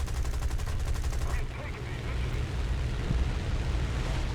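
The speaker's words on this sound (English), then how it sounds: "I'm now being shot at from behind again. Those are cannons going by." Enemy cannon rounds from behind whizz past a fighter plane in War Thunder, a rapid burst of fire over a constant roaring engine drone, with someone talking over it.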